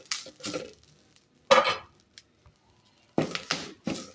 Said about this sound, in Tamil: கருவேப்பிலையை நல்லா வறுத்தரணும்.